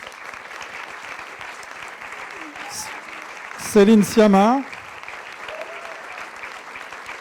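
An audience at a round-table event about Adèle Haenel applauds steadily throughout, while a voice on a microphone speaks over the clapping and calls out a name.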